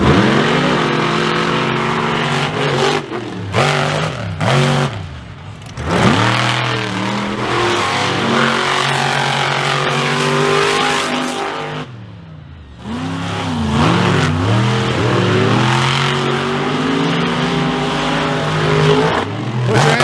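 Loud monster truck engines roar and rev repeatedly at a monster truck show, pitch rising and falling in long surges with brief drops between, no talking heard.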